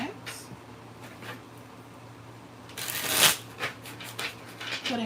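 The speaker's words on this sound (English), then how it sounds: "So I will take my clarifier, shuffle it" Tarot cards being shuffled by hand in a few quick riffling bursts, close and crisp, with the loudest flurry near the middle and softer shuffles after it, over a steady low hum with no talking.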